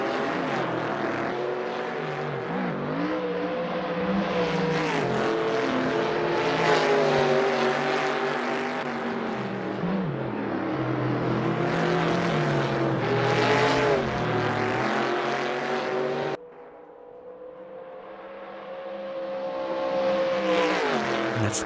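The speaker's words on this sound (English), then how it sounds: "That's the car that just passed in first place right there" Race car engines in a racing video game set at Road America roar continuously as cars run close by, the pitch swelling and dipping as they pass and shift, with a sudden drop in level near the end.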